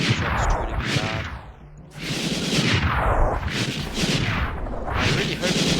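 Units firing homing shots in the battle game Totally Accurate Battle Simulator: a steady chain of loud, artillery-like blasts, each swelling and sweeping like a rushing whoosh before it hits, repeating about once a second with a brief lull near the start, while a voice talks over it.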